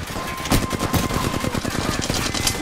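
Close, loud rapid-fire gunshots in the battle royale video game Apex Legends on the Worlds Edge map, a continuous burst of quick, evenly spaced reports from automatic weapons throughout.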